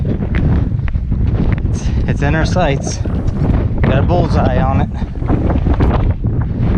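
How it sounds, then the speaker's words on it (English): Strong mountain wind buffets the microphone with a constant roar in the Northern Presidentials near Mount Jefferson while a person talks over it. "It's wicked windy up here."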